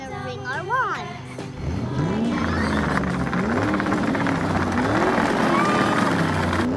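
An Extreme Dune Racer 12V Power Wheels ride-on toy car drives along with a whining electric motor hum that rises and falls, mixed with a voice and other voices talking over it.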